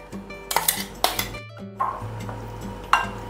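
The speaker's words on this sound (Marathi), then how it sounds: "आता हे छान मिक्स करून घेते." A spoon clinks and scrapes against a metal bowl while thepla dough of jowar flour, fenugreek, ginger-garlic and green chilli paste is mixed, close, with sharp irregular knocks and short ringing tones.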